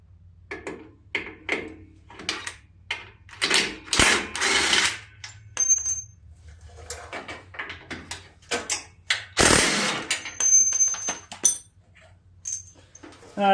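Bursts of a power tool working the last bolts loose on a John Deere L120 riding mower transmission, several short whirring runs with clanks and pauses between them, close by.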